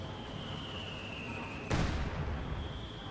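A single mortar round booms in a Company of Heroes 2 match, one sharp loud blast midway followed by a rumbling tail over a steady game ambience and a faint tone.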